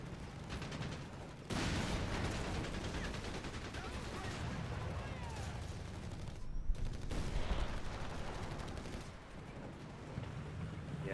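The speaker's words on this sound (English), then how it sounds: "Whole machine gun's doing work." Sustained machine-gun fire in a Company of Heroes 3 battle, rattling continuously amid dense battlefield noise with scattered impacts, mixed under casting commentary.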